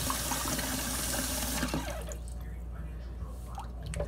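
Cold tap water runs steadily into a pot of potatoes being washed for cowboy stew, a loud continuous rush that thins out halfway through, leaving lighter splashing and dripping.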